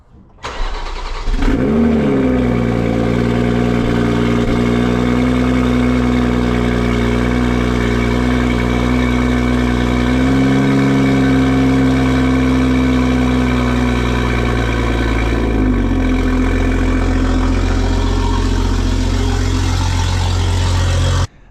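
A Toyota Supra engine cranks and catches, then settles into a steady, loud idle up close, holding a constant low hum with a slight dip in pitch near the end.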